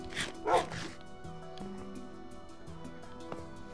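A dog in Minecraft gives two short bow-wow barks near the start, then soft whimpering game tones trail off, with a faint voice in the background.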